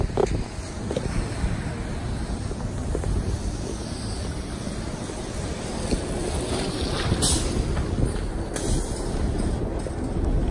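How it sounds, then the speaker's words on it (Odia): Interior of an American city bus, route 30X, heard as a steady low rumble and rolling road noise throughout, with faint rattles and a couple of brief higher squeaks or hisses. "ତ ବସ୍ ଭିତରକୁ ମୁଁ ଆସିଗଲି"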